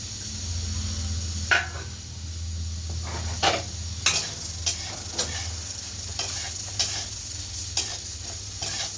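Mung dal lightly frying in a pan, a steady soft sizzle with a low hum beneath and periodic scraping clicks of stirring.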